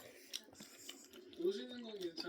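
Soft, close chewing and biting on cheese scooped out of a hollow snack, a few moist crunches, with a woman's speech and murmurs woven through.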